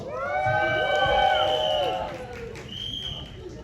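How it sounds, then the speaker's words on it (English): A crowd at a film trailer launch event for Jewel Thief cheers with rising whoops and shouts. The loud burst lasts about two seconds, then settles into a quieter lingering tone. "a big round of applause"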